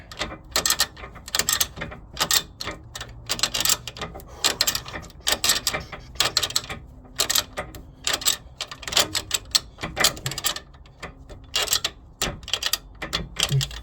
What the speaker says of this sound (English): Now you tight the nut and untight the bolt